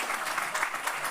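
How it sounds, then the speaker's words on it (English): Audience applause for a panel at a high-level health event in Geneva, a steady wash of clapping from a seated crowd, moderately loud and continuous with no talk over it. "if you would all give another round of applause to our panel"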